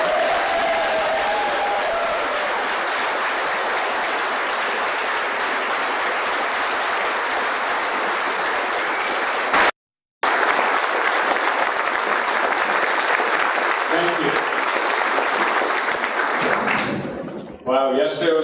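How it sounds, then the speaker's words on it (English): Audience applause for a new state transportation secretary at an employee gathering, steady and dense clapping from a large crowd that runs without letup, briefly cuts out, then resumes and fades at the end. "A big round of applause for our new DOT Secretary, Ananth Prasad."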